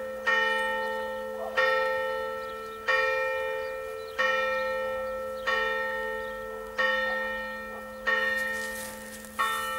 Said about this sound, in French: Vous entendez la cloche?